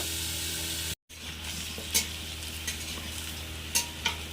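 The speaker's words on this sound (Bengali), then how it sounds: "চাপা দিয়ে দিয়ে আলুটা আমি ভালোভাবে ভেজে নেব।" Salted, turmeric-coated potatoes fry in hot oil in a kadai, a steady close sizzle with a brief cut near the start and a few soft scrapes as they are pressed down.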